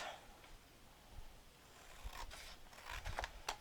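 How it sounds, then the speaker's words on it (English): Paper being cut with scissors for a Carta Bella Metropolitan Girl scrapbook album: a few quiet, short snipping and scraping strokes, grouped toward the end, over low room noise. "I'm going to go ahead and cut this piece off"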